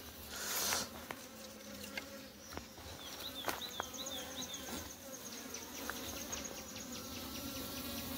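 Honeybees buzz steadily around a hive in a maize field, a faint continuous drone with individual bees zipping close by now and then, while a few bird chirps sound softly in the background.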